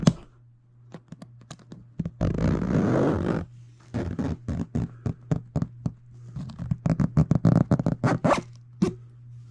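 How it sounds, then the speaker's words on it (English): Zipper being pulled along a Katzkin leather seat cover during a Dodge Dart seat install, heard as bursts of ratcheting zipper rasps with short clicking pulls in between, close and alone. "you want to kind of pull the leather closer so it doesn't break the zipper. And there you go, you want to just start pulling it."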